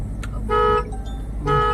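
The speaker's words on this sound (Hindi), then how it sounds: "और हॉर्न दे दो।" Two short, loud car horn blasts sound from inside a car during a driving lesson on a busy road. A brief gap separates them, and low road rumble runs underneath.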